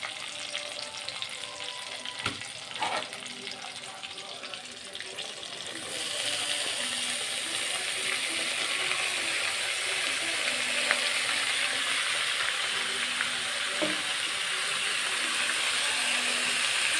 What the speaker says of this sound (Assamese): এইপিনে শাকখিনি ভাজি ল'লোঁ, একদম কমি গ'লগৈ শাকখিনি